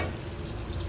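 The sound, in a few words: potato patties frying in hot oil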